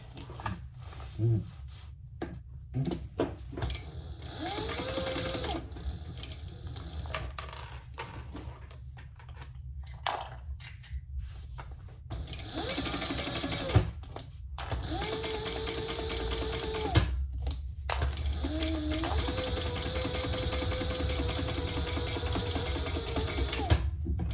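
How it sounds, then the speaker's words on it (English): Sewing machine top stitching a phone pouch to close its turning hole, several runs of steady motor whir broken by short pauses and small mechanical clicks, fairly quiet and close, with a little talking. "Now we're gonna just close our turning hole with a top stitch."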